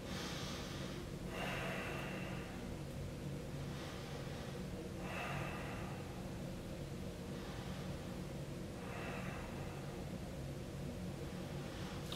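Slow, deep breaths drawn in and let out during a yoga session, several long audible inhales and exhales spaced a few seconds apart, close to the mic over steady background hiss.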